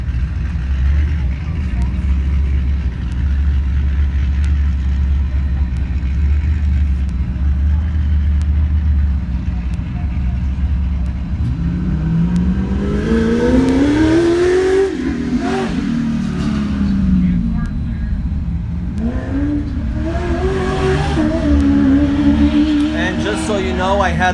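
Ultra 4 race cars launch off the line at the Wild West 100, engines revving hard and rising in pitch as they pull away, close and loud, with a second car's climbing rev following shortly after.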